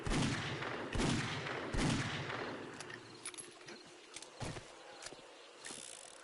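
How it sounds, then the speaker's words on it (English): Bursts of AK rifle fire in the zombie survival game 7 Days to Die, several loud shots in the first seconds, then sparser scattered cracks and mechanical clicks amid game ambience. "I'm over here trying to use the AK. The AK works, though."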